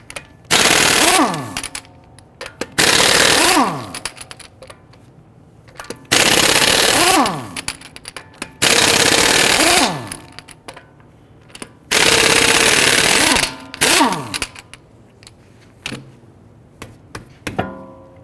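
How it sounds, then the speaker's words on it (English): Impact wrench with a 22mm socket loosening and removing lug nuts from a Dodge Charger wheel, loud rattling hammering bursts repeated five times with short gaps between, close up and without talk. "Using a 22mm socket, let's loosen and remove our lug nuts."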